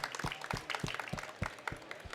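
An audience applauds comic artists Amanda Conner and Chad Hardin at a DC Comics art event, a short, faint burst of scattered clapping from a modest crowd.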